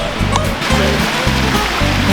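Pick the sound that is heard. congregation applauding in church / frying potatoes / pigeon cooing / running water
running water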